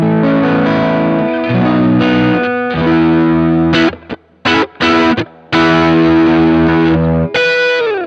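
An electric guitar plays through a Wampler Moxie overdrive pedal with fat mode on. It gives loud, thick, sustained distorted chords, broken midway by a few choppy muted stabs before the ringing chords return, with no talking.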